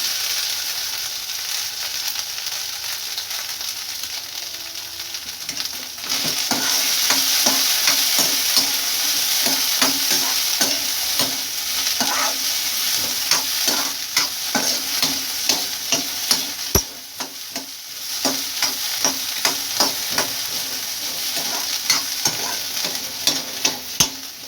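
Sweet corn frying in butter in a pan: a loud, steady sizzle runs throughout, broken by frequent sharp clicks and scrapes of a spoon stirring.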